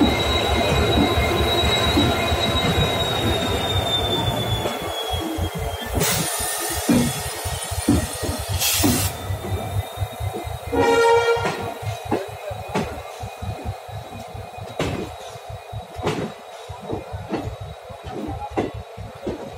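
The Howrah-Amritsar Mail, hauled by a WDG4D diesel locomotive, passes close by with loud squealing wheels and a continuous rumble, then a rapid, rhythmic clatter of coaches over rail joints.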